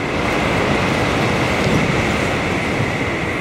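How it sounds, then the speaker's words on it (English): A Shinkansen bullet train roars past close by in Japan, a dense steady rush of noise with no voices. "There goes the bullet train right there."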